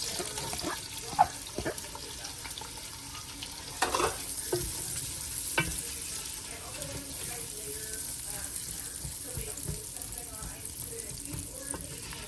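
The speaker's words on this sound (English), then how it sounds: "I'm gonna start by putting my onion in here and cooking it until it's translucent" Onions sizzle and fry steadily in butter and oil in a pan, with occasional stirring scrapes and clinks, close by, with no one talking.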